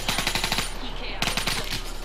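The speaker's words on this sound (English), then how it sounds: "Whatever gun that is, I want it. Pretty sure that's like one of the goodest submachine guns." A submachine gun fires in Black Ops 3 in fast, evenly spaced rounds. It sounds like two close bursts with a short break between them.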